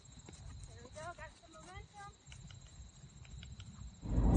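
Rescue horse's hooves clip-clopping at a steady walking rhythm during a ride, fairly close, with faint voices in the background and a louder rustling burst at the end.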